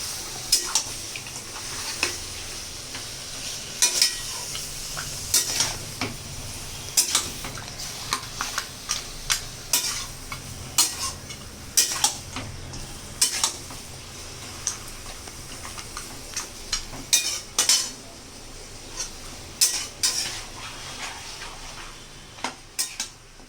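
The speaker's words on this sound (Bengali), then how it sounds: "এই যে রাঁধুনি রান্না করছে, কুকিং করছে।" Goat meat and potatoes cooking in a pot, a utensil repeatedly scraping and clinking against the metal in irregular bursts over a low background hiss, close and fairly quiet, with no talking.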